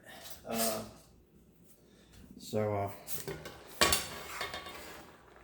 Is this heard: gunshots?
no